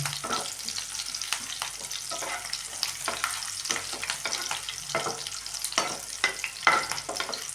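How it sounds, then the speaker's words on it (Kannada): Chicken pieces frying in oil, with a busy crackling sizzle and frequent stirring scrapes and taps, up close at moderate volume throughout with no voices. "ಚೆನ್ನಾಗಿ ಎಣ್ಣೆಯಲ್ಲಿ ಸ್ವಲ್ಪ ಫ್ರೈ ಆಗಬೇಕಿದೆ"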